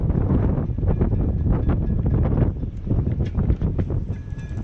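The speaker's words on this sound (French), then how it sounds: "le vent vient là." Gusty wind roars around a sailboat at anchor off La Ciotat, sheltered from the swell, a loud continuous low buffeting rush with rising and falling gusts and no voices.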